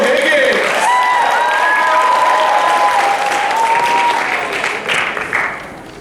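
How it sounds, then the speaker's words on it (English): Audience applause and cheering at a high school talent show, dense clapping with a voice sounding over it, tapering off toward the end. "Let's get a round of applause for Mabel Higgins."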